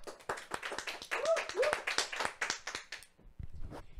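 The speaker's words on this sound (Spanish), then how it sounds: "la despedimos con un gran aplauso" Scattered claps from a small audience mix with a voice talking over them, the claps uneven and fairly close, fading out toward the end.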